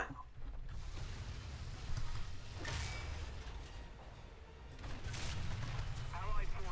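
Cannon fire and shell hits from the War Thunder tank game come as faint booming bursts over a constant low rumble of battle noise, with two sharper blasts standing out.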